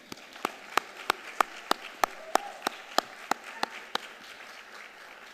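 A graduation audience applauds with evenly spaced, distinct claps about three per second, fairly quiet and fading after about four seconds, with no talk over it.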